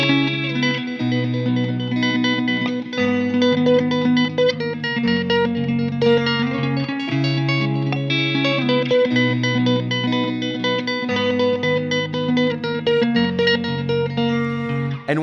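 Ambient electric guitar run through effects pedals with the reverb switched off, playing a slow chord progression of sustained, slightly distorted chords that shift every second or two and ring on into one another.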